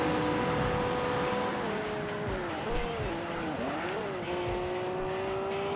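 A race car in Wangan Midnight on PS3 roars at high revs, engine pitch rising and dipping with gear changes while tires squeal briefly, loud and continuous.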